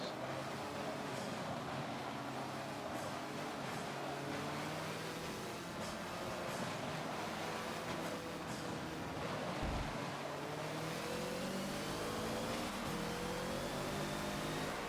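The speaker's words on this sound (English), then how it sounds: "That is a lot of cars." Many racing cars roar around the Dubai track in Forza, a Hoonigan Focus among them, with engines droning and revving continuously in a dense, loud blend.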